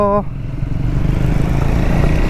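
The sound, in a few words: Triumph Scrambler 400X motorcycle engine riding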